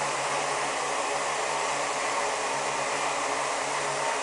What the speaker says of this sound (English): You can see it's actually trying to float a little bit off the ground only.